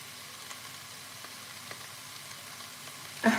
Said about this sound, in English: this is chicken, veggies, you know, trying to melt the veggies.